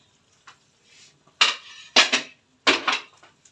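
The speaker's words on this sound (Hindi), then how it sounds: "अब मैं प्रेशर कुकर को खोलती हूँ।" A pressure cooker with mutton cooking inside is opened in a home kitchen: a few sharp metallic clanks and scrapes of the lid and pot in separate bursts, close and loud, with no talk.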